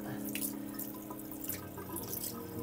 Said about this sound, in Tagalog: So ngayon, maghuhugas ako ng mukha.